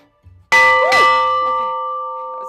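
An old bell cast in 1705 at Pentillie Castle is struck once, giving a loud, bright clang that rings on with a long, steady sustained tone fading slowly over a couple of seconds.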